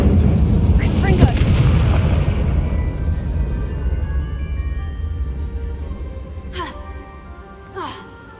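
Spell blasts boom through a Hogwarts Legacy battle, a loud low rumble with a sharp crack near the start that slowly fades, followed by two brief bright magical zaps near the end.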